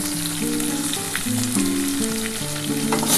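Small kachki fish frying in a pan with Kashmiri chilli powder and a little sugar, sizzling steadily and loudly while being stirred, with scraping and clinks throughout, no talk.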